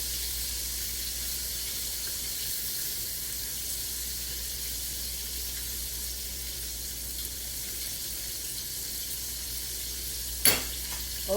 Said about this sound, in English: so the chicken is frying now